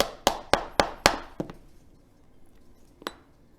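A mallet strikes a leather stitching punch to make stitching holes. Four quick, sharp knocks come first, then a softer one and, after a pause, a final knock. All are close and dry, with no talking.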